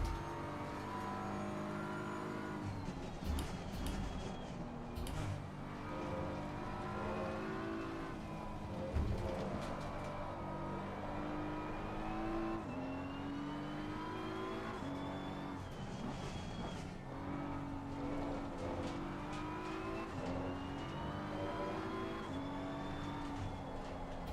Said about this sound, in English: I need to start downshifting in these corners, get out of that low power band.